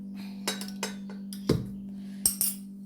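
Firm pieces of peeled ripe mango dropped into a metal pressure cooker, giving several sharp clinks and knocks spread over a few seconds, close and fairly quiet over a steady low hum.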